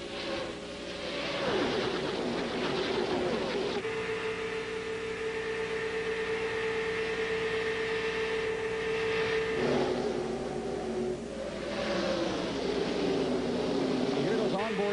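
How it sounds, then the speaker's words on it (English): Onboard NASCAR race car engine at Talladega in the 2000 Touchstone Energy 300, a sustained high whining drone that holds steady with slight pitch shifts, loud and constant throughout beneath faint commentary. "You hear those onboard cameras, you hear the engine just whining."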